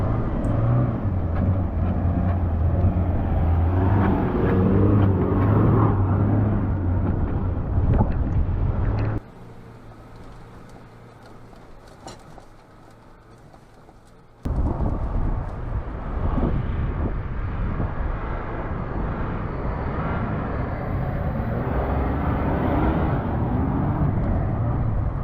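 A vehicle climbs back up a beach sand dune in Inhambane, Mozambique, its engine roaring loudly under heavy wind buffeting, easing off to a quieter stretch midway before straining hard again.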